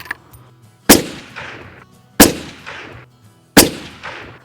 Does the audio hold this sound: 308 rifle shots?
yes